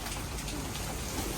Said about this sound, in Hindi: यहाँ पर तो देखे कैसे बारिश हो गई है